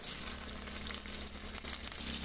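Green chillies sizzle in hot oil in a kadai for an egg curry, a steady, close, crackling fry with no talk over it.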